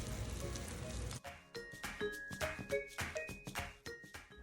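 Short ribs sear in a hot pan, a steady frying hiss at first, then irregular crackling pops and spits of fat, close and fairly quiet.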